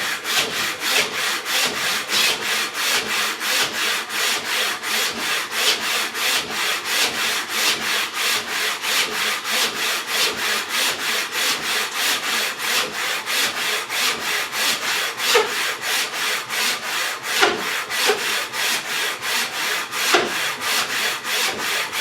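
A Jointmaker Pro hand saw cuts through walnut in a fast, steady rhythm of rasping strokes that carries on without a break, close and fairly loud, with no talking.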